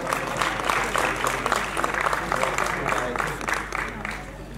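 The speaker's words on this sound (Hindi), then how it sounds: "जोरदार तालियां एक बार।" Seated audience at a blood donation camp and community event giving loud, sustained applause, dense crowd clapping throughout with faint voices underneath.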